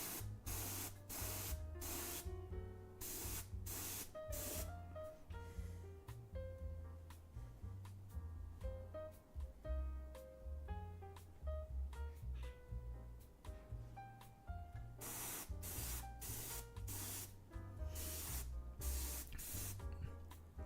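An airbrush spraying Liquitex ink sends out repeated sharp bursts of hissing air, starting and stopping in a quick rhythm, close and fairly loud, with soft music playing underneath.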